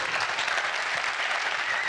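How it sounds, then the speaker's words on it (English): Steady, full applause from an audience welcoming actor Jim Belushi, a dense unbroken wash of clapping throughout. "Jim Belushi, please warm applause again."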